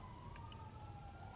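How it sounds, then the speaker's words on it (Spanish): Emergency siren in the GTA video game, a steady wailing tone heard faintly under a noisy rumbling background. "¿Y por qué oigo ambulancias?"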